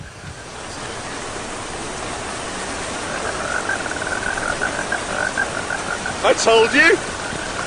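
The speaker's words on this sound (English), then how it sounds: "It's raining!" Steady broadband hiss of rain falling outdoors, filling the whole scene at an even level, with a brief spoken outburst near the end over the downpour.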